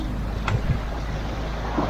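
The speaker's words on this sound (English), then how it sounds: "That's just waves that come down the channel in these islands." Waves slap against a boat crossing the Strait of Georgia between islands, a constant loud rumble of water and wind noise with a few dull thumps against the hull.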